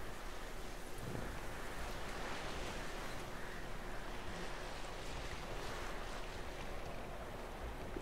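A boat moving across open water in The Witcher 3: Wild Hunt video game, with a soft, steady wash of waves and wind rushing continuously and faintly throughout, with no voices.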